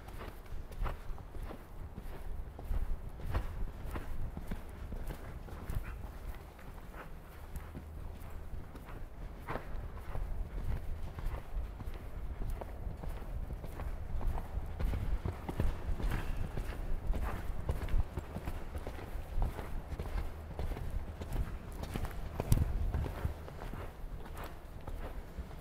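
A horse canters on the right lead during a riding coaching session, steady rhythmic hoofbeats on footing at moderate distance, continuing for the whole stretch with no talk over them.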